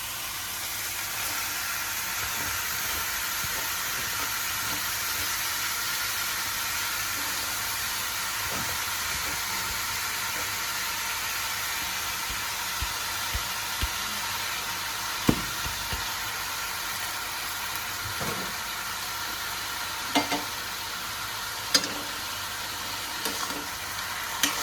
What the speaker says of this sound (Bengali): চাল কুমড়োটা দিয়ে আমি একটু ভালো করে নাড়িয়ে নেব।